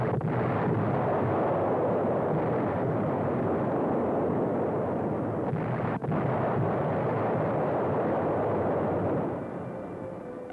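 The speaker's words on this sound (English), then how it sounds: "San Pietro, like dozens of other German-held towns, was caught in a tight net of artillery fire." Wartime newsreel soundtrack of World War II artillery fire around a German-held Italian town: a dense, continuous roar of booming guns and rumbling blasts, loud and sustained, easing slightly at the end.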